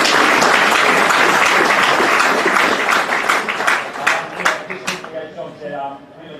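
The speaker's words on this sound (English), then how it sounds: "So just another round of applause for both teams." Loud crowd applause for both teams after a school Australian football match between Rostrevor College and Sacred Heart College, dense clapping that thins out and fades into scattered claps near the end.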